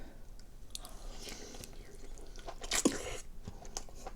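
Close, quiet chewing and biting on lobster, with soft wet crunches and squishy mouth sounds and one sharper crack near the end, almost no voice.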